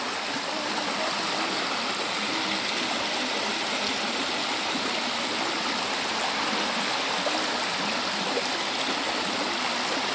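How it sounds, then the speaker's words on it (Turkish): A small waterfall on a stream pours with a constant broadband rush of splashing water, steady and moderately quiet throughout, with no talking. "çok güzel bir küçük bir şelale var"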